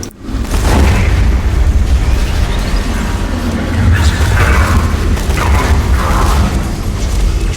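A grenade blast in Borderlands 2 combat: a loud, sustained rumbling boom with crackling debris and continuous heavy low-end noise throughout, punctuated by smaller bursts.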